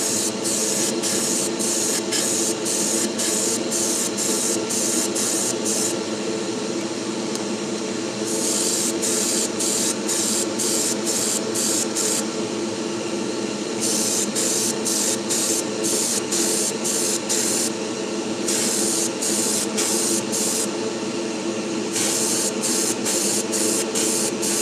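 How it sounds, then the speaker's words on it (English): Paint is sprayed onto a bass guitar in repeated bursts of close, loud hissing, several short blasts in quick succession separated by brief pauses, over a steady background fan hum. "I'm going to turn the fan on for this because this is going to spray a bunch of air out."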